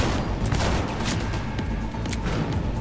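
Revolver gunfire in Cyberpunk 2077 comes as a dense, loud series of sharp shots with rumbling booms and no pause.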